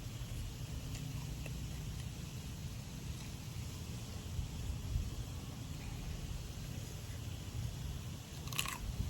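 Crunchy chewing and biting of a spicy raw beef salad with bitter papaya, close to the mic, steady and soft, with a faint hiss in the background and no talking.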